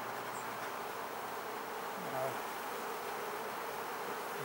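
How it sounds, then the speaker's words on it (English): Soft, steady buzzing of many honeybees hums continuously at close range, with no talking. "Now, I've got to get these bees off the edge"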